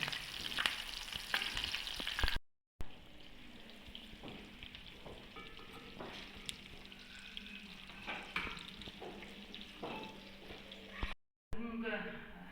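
Rice patties frying in a pan, a steady close-up sizzle and crackle with brief breaks, continuing under the sound of people nearby.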